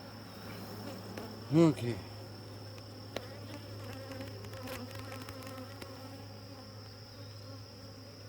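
Honey bees buzz steadily at an open hive while a beekeeper tends it, a constant close drone with a brief louder buzz passing near the microphone and a few faint clicks; a voice speaks one short word.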